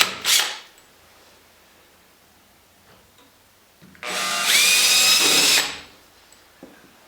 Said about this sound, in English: can drill a few holes on either side of the panel